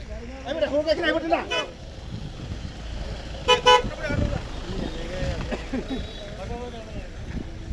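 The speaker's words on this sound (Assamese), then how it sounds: "পূৰা ট্ৰেফিক জাম এইপিনে।" Several vehicles honk in a stalled traffic jam on the road to college, with short horn toots in bursts over a steady rumble of idling cars and background voices.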